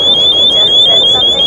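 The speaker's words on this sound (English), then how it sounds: "it's cut short slightly because of the alarm there" An alarm sounds in a busy trade show hall at Mobile World Congress 2017, a loud, steady, piercing electronic tone that pulses slightly over crowd murmur.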